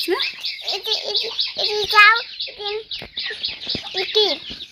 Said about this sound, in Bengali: এই যে মুরগির বাচ্চা কতগুলো আইছে